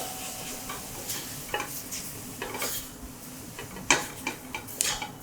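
Dry spices—cumin, coriander, turmeric, paprika and garam masala—stirred into onions in a pan over high heat for a creamy coconut peanut curry: light sizzling under intermittent scrapes and sharp spoon clicks against the pan, close and moderately loud.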